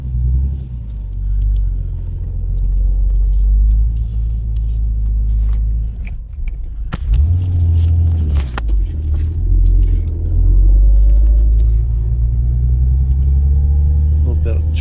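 An untuned big-turbo Toyota 7MGTE inline-six idling low, a deep steady rumble close by with a brief blip midway, while someone talks over it intermittently.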